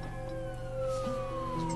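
An ambulance siren in SimCity 2013 wails with a slowly falling tone over steady background game ambience, moderately faint and without speech.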